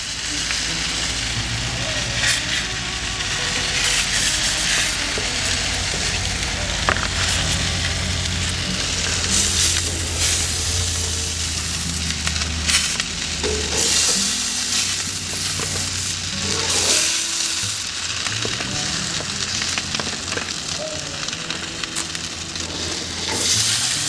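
Spam slices sizzling on a grill: a steady, dense crackle and hiss of frying meat, continuous and close with occasional sharper pops and scrapes.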